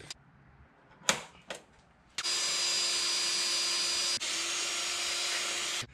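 A power drill bores a hole in a Jeep JK or JL hood to mount a hood strut ball stud: a few sharp taps come first, then a steady, loud whine of drilling for about four seconds with one brief dip.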